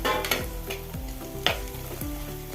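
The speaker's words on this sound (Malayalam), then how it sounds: "ഉള്ളിയിലൊന്ന് ഇളക്കി കൊടുത്ത്" Onions stirred and fried in a pan for a crab curry, with a steady sizzle and several sharp scraping strokes of a spoon against the pan, close and alone with no voices.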